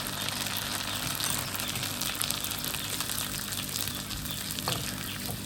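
Curry leaves frying in hot oil for a homemade crispy mixture snack, a continuous soft sizzle and bubbling crackle at moderate distance, no talking.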